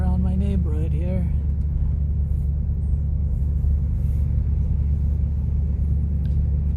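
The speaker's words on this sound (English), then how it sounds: "the Olds is running really sweet" An Oldsmobile Delta 88 engine runs smoothly on a slow neighborhood drive, a steady low rumble throughout with a short voice-like sound at the start.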